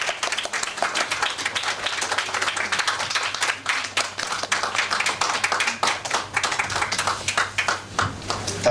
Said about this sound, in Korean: 함께 박수로 축하하겠습니다.